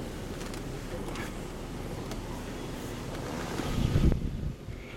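Interior of a 1995 Jaguar XJS 2+2 convertible with a 4.0-litre six-cylinder engine, top up, driving down the road: a steady low rumble of road and engine noise with a soft swell near the end, no talk.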